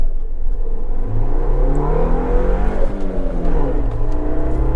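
A Suzuki Jimny with about 8000 km on it accelerates hard from a stop, its engine loud and close, climbing steadily in pitch through the revs with a brief shift in the middle.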